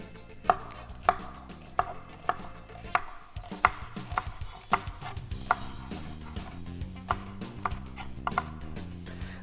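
Onions being chopped for a spinach filling for artichokes: a knife strikes a cutting board about a dozen times in an uneven, fairly steady rhythm, crisp and close against a quiet room.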